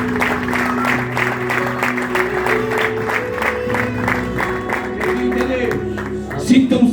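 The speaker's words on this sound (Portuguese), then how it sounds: "Um aplauso para Deus." A church congregation applauds during a sermon, rapid dense clapping from a crowd with some voices and cheers mixed in, steady and fairly close before tapering at the end.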